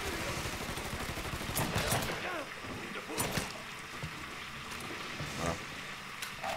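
Sharp rifle shots ring out in Mafia 3, several spaced reports over a busy game background, with a voice talking between them.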